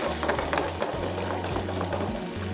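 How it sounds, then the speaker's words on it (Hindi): Chicken frying over a high flame, a steady crackling sizzle of oil with a low hum underneath, continuous and fairly close. "तो अच्छे हाई फ्लेम पे हमने फ्राई करना है चिकन को"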